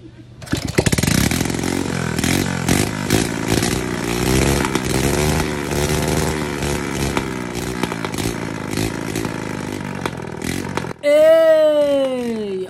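An old motorcycle left unused for years starts and keeps running with a loud, rough, sputtering idle and uneven revs for about ten seconds, and then a rising whine follows.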